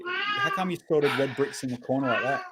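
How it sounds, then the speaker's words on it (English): A pet cat meows in the background of a LEGO show while someone talks over it, the cries blending with his steady speech. "You probably can hear my stupid cat in the background."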